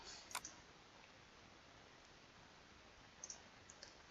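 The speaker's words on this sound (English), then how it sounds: "I'm going to click the Save button." A computer mouse clicks a Save button: a single faint, sharp click near the start, then a couple more light clicks a few seconds later over a quiet background hiss.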